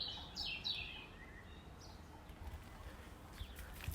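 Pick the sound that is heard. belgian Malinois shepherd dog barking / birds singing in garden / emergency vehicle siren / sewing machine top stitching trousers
birds singing in garden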